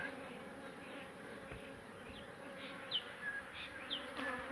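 Honey bees hum and buzz around a hive being relocated from a post office in Maldon, a dense continuous drone with individual bees whining past close by, no talking.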